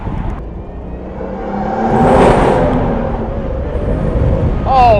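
An AMG V12-powered F1-style car drives on the Autobahn, its engine droning loudly and swelling as it accelerates, with wind rush and a voice speaking over it.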